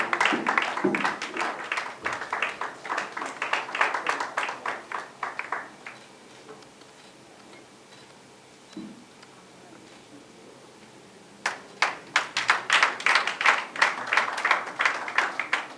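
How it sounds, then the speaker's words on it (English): Audience applause at an Africa Media Come Alive forum's annual lecture: a crowd claps briskly, fades into a quiet pause with a faint knock, then bursts into clapping again, fairly soft and roomy. "Can we give a round of applause to her?"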